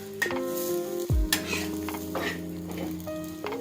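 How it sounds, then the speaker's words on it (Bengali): Suji paratha frying in oil in a pan, a steady close sizzle with stirring and scraping of a utensil against the pan, plus a couple of brief clanks. "আমি এখানে তেল দিয়ে ভেজে নিচ্ছি।"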